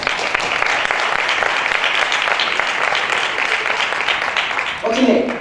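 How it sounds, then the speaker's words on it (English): Keynote audience at a Toastmasters conference breaking into a big round of applause, a steady crowd clapping that fades near the end as a voice begins talking. "Let's give her a big round of applause."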